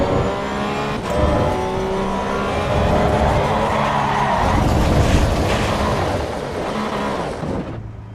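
A Porsche Cup race car in the Assetto Corsa EVO racing game roars continuously as it accelerates and shifts, with tire squeal and skidding mixed in, loud and close throughout.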